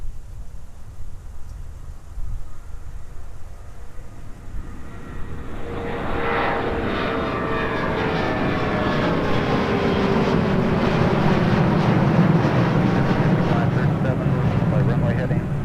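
A jet airliner spools up and roars down runway 30 left at MSP airport during winter deicing operations, the engine noise swelling from a quiet start to a loud, sustained rumble.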